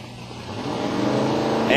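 Roaring engine of a 632 cubic inch twin-turbo big-block drag race car making a pass at Silver Dollar Raceway, a steady loud drone that builds slightly, with an announcer talking over it.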